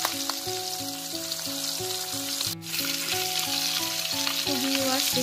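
A second piece of catla fish fries in hot oil, giving a loud, unbroken sizzle with a brief sharp crackle midway, while a tune plays underneath.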